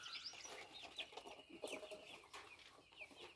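Several chickens cluck and chatter at a moderate distance, irregular bursts overlapping through the clip with no voices.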